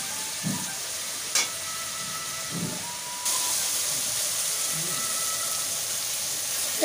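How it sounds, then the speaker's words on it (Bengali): Tomato masala with turmeric and a little salt sizzles and fries in oil in a pan, a steady close crackling hiss with a few louder stirring bursts. "এবার এটা একটু ভাজা ভাজা হয়ে নিক"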